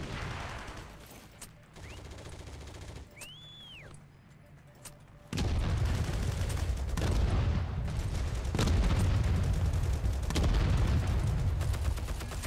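Grenade blasts and surrounding gunfire in the World War II shooter Heroes & Generals, a quieter stretch of scattered shots giving way to dense, continuous loud booming and rattling fire for the second half.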